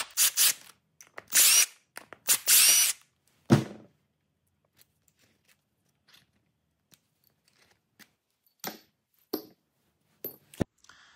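A power driver fitted with a T15 Torx bit backs screws out of a BMW ABS pump, giving several short, loud whirring bursts early on, followed by quieter scattered clicks and taps of parts being handled.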